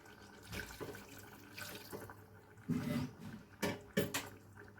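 Water running from a tap in short bursts, splashing into a chicken and broad bean curry nearby, with a few faint kitchen knocks between the pours.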